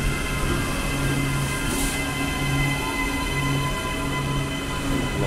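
A three-car Auckland commuter train on the Manukau Eastern Line rumbles steadily at close range, with a constant rolling roar and sustained motor hum throughout.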